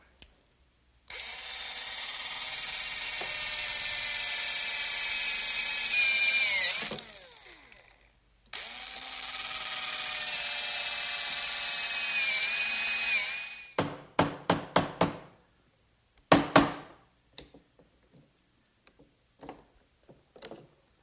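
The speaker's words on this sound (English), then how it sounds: "I'll do that by using a brad point bit and a chisel to remove the rest of the material" A power drill with a brad point bit bores recesses into a wooden workbench in two long, loud, steady runs. Short stop-start bursts and a few faint knocks follow, with no talking.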